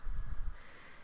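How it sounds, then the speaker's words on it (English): A filled mold of vegan warm cinnamon soap is tapped on a surface, giving about four dull, low thumps in quick succession in the first half-second before fading into quiet background. "I just need to tap it and get all the air bubbles out."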